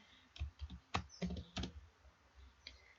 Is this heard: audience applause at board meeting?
no